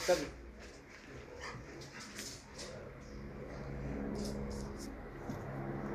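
A dog that has not been trained in guard instinct yelps and whimpers in a tense encounter, with short, fairly loud cries at the start and scattered fainter whines over steady background noise while people talk.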